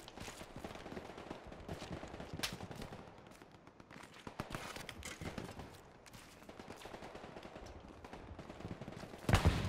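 Gunfire in the World War II shooter Hell Let Loose: a dense run of sharp cracks and bursts, some close and some farther away, continuing through the whole stretch with no one talking. It builds to a louder close volley at the end.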